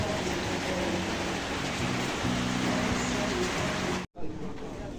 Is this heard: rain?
yes